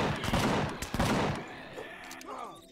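Rapid bursts of gunfire in the survival shooter Empyrion Galactic Survival, loud and close for the first second and a half, then fading into quieter game ambience with faint tonal effects.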